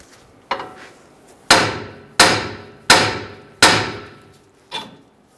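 A hammer strikes a front suspension part on a Ram 1500 to knock it loose during a strut and spring replacement, giving six sharp metallic taps at a steady pace, close and loud, with no talk.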